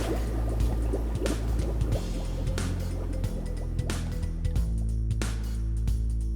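Water poured in to top off aquarium fish tanks at a fish store, a continuous splashing and trickling fill with scattered drips and knocks, close and steady, no talking.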